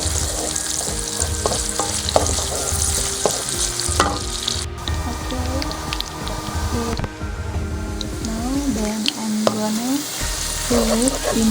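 Onions caramelizing in oil in a pan for a prawn and chicken broth, a steady loud sizzle with frequent scraping stir strokes throughout, brief voice tones mixed in.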